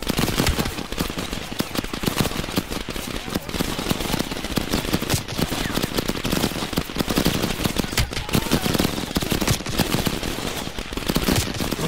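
Dense, continuous automatic gunfire in Call of Duty Black Ops Cold War crackles for the whole stretch, with rapid overlapping shots, close and loud, and occasional voices underneath.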